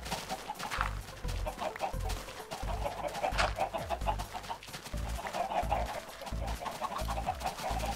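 Chickens clucking in the Minecraft video game, repeated short clucks at moderate distance over a busy, continuous game background, fairly quiet overall.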